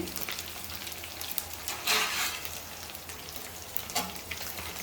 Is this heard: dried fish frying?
yes